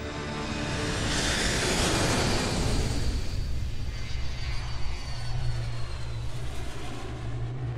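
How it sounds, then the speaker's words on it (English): A loud, close airliner engine roar for a reenactment of United Airlines Flight 175 in flight, a continuous rushing drone with a deep low rumble that holds steady throughout, no voices. "Now on course for New York City, United Airlines Flight 175 is just minutes away from impact."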